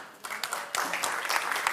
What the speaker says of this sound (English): please put your hands together for a round of applause for the 10-meter air pistol women bronze medal winner